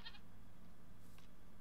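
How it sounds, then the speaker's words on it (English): A goat in Minecraft gives a short, faint bleat right at the start, followed by a quieter second call about a second later, both over a low background hum. "Goat there."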